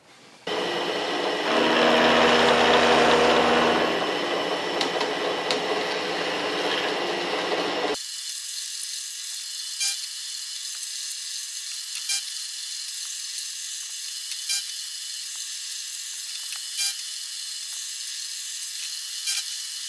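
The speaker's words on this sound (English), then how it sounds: "I'm going to put it in the milling machine and put six flats on." Milling machine cutting six flats onto a steel shank, part of modifying castor wheels for easy remounting; a loud broadband machining roar for about eight seconds, then a quieter steady motor hum with faint ticks, no talk.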